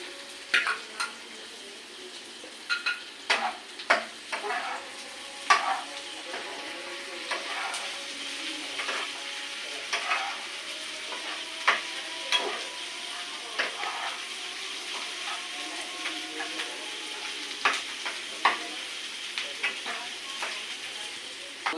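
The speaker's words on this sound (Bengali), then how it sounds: "বন্ধুরা দেখছেন আমার পেঁয়াজটি ভাজি হচ্ছে" Onions and chili fry in a pan with a steady, close sizzle, broken by frequent clinks and scrapes of a stirring spoon.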